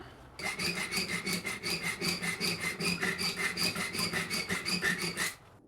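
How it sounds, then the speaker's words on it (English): Steady rhythmic rasping of a file stroking back and forth across a metal Leatherman replacement blade, about four strokes per second, close and continuous for several seconds. "I have to keep filing until I hit that ball detent"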